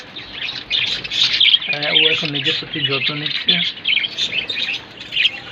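A young budgerigar chirps continuously in high, rapid peeps while a person speaks nearby in the middle of the clip.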